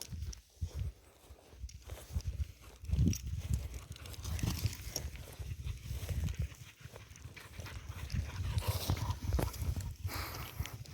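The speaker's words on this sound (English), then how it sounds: "One of the dogs charging past." Dogs charge past in the Hero Wars mobile game, a steady run of rapid padded thuds like galloping footfalls, moderately close and continuous throughout.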